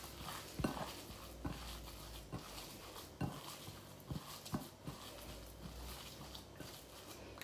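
Chicken and herbs are mixed in a bowl, producing a quiet series of irregular clinks and scrapes of a utensil against the dish over faint kitchen background noise.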